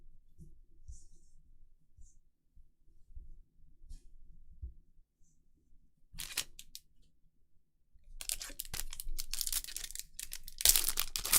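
Trading card pack wrappers, Topps Tier One Baseball, are crinkled and torn open by hand, with faint handling at first, then bursts of loud crackling plastic and a sharp tearing rip toward the end.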